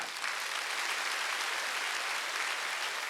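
A church congregation at a Sunday worship service bursts into steady, dense applause, filling the hall evenly from start to finish with no voices over it.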